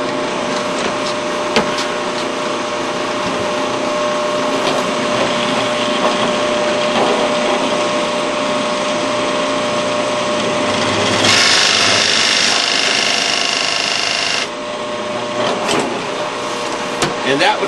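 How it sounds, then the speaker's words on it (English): A drill bores hinge holes into wooden shaker cabinet doors, a continuous grinding, rasping whir with a louder stretch in the middle, heard up close and steady throughout. "go ahead and drill my holes on all 4 doors"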